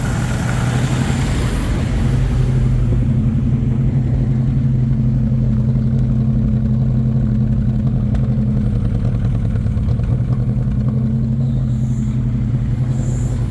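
A 1977 Pontiac Firebird engine idling high from vacuum leaks, a loud, steady, close-up rumble that continues throughout without change.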